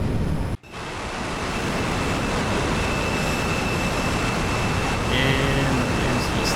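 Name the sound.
F-14B Tomcat jet engine afterburner in DCS video game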